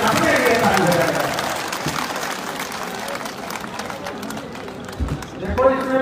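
An audience of shiksha mitra teachers at a stage event with a central minister gives sustained, dense clapping that continues for several seconds while voices carry over it.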